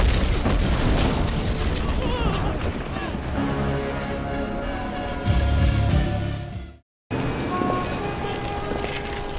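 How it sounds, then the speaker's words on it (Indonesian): Explosion in a film as a building is blown up, a loud booming rumble that sustains under a narrator's voice, then cuts to silence before quieter sound resumes. "Setelah itu dia meledakkan tempat itu."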